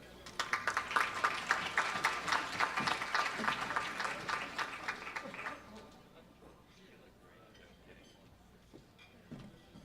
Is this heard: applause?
yes